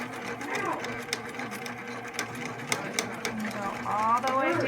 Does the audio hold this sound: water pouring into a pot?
no